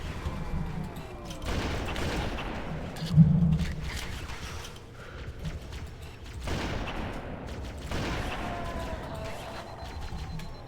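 Video game gunfire aimed at the player comes in two heavy bursts of rapid shots, loud and booming, separated by a rumbling lull with a squelchy hit between them.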